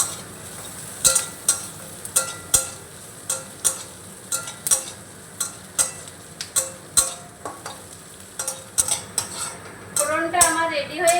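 Onion and whole cumin fry in oil while a metal spatula stirs and scrapes the pan in a steady rhythm of sharp clinks over a constant sizzle, close up, with a louder burst near the end.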